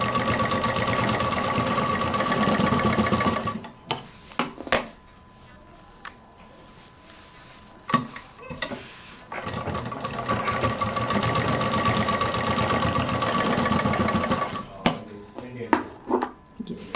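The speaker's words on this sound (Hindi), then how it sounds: "इसको यहाँ पे मिला के ऐसे सिल देंगे किनारे की तरफ" Sewing machine stitching along the edge of a fabric money gift pouch, running in steady bursts that stop and restart several times, loud and close, with a brief click between runs.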